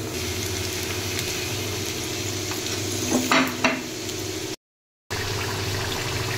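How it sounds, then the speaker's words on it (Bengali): Chicken and potato snack pieces fry in hot oil over low heat with a constant loud sizzle, a brief clatter of stirring partway through and a short dropout near the end. "একদম কম আঁচে ভাজবেন"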